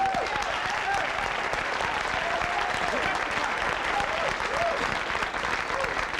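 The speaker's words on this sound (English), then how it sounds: "Give him a big round of applause." Loud, sustained applause from a roast audience at a Richard Pryor celebrity roast, dense clapping filling the room steadily for several seconds, with faint crowd voices beneath.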